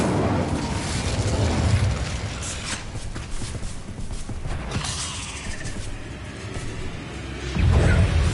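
An Incendio fire spell in Hogwarts Legacy erupts in repeated fiery bursts and booms over a dense, continuous roar of battle ambience, with a heavier thump near the end.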